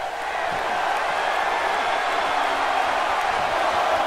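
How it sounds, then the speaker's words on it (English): Arena crowd noise from a WWE 2K18 wrestling match, a steady roaring cheer that holds at full volume throughout, with a commentator's voice woven faintly underneath. "Crowd standing up on their feet for this one."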